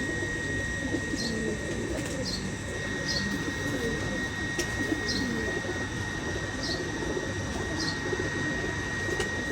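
A flock of top-quality Ferozpuri pigeons keeps up a dense, low cooing drone, while small sharp chirps recur at regular intervals over the constant murmur.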